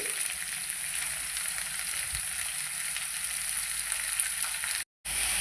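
Steady, close hiss of onion pieces and green chillies sizzling in hot oil, continuous and even, with a brief dropout near the end.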